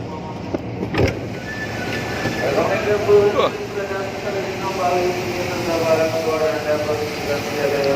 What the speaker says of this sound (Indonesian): Ada kereta api komuter di belakang kita nih